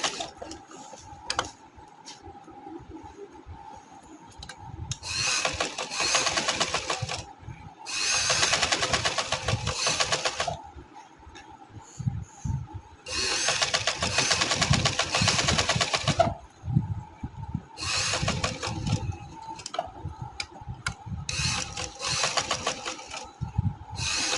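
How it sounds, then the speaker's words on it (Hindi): Sewing machine stitching a neckline on a garment, running in several long bursts of steady rapid whirring separated by short pauses, close and fairly loud, with no talking. "अब मैं इस साइड पे भी सिलाई लगा लूँगी।"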